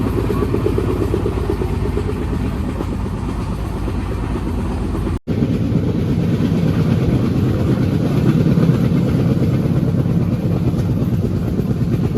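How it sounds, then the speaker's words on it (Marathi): Loud, steady rumble of a train, broad and continuous, with a brief cut midway; no voices. "समोरून एक रेल्वे येते"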